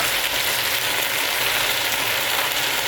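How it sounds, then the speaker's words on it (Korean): Beef stir-fries in a pan for Korean seaweed soup, a dense, even sizzling hiss that stays close and constant throughout with no talking. "이렇게 매매 볶아줄게요"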